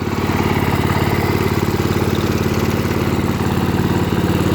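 A Wheel Horse Wheel-o-matic 875 hydrostatic riding lawnmower runs steadily, its small engine giving a continuous close, even throbbing drone with no voices over it.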